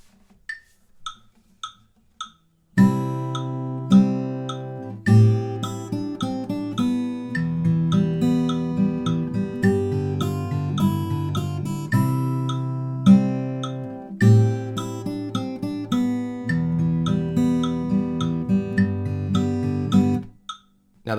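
Solo fingerstyle acoustic guitar playing the chorus of a song, close and clear, with bass notes and plucked chords in a steady rhythm after a few soft opening plucks.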